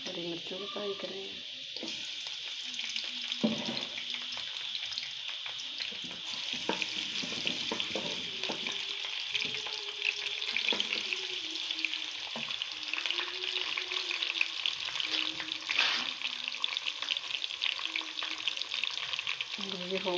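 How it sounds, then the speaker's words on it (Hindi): Garlic and green chilies fry in a pan with a steady close hiss and sizzle, broken by occasional stirring scrapes, throughout. "लहसुन और हरी मिर्चों को फ्राई करेंगे।"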